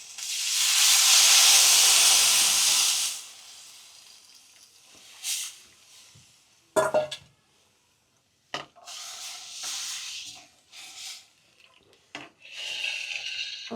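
Ginger, garlic and chillies hit hot oil with asafoetida for a Gujarati stuffed-chilli kadhi tempering, making a loud hissing sizzle for about three seconds before it fades into quieter scattered scrapes and clinks, with no talking.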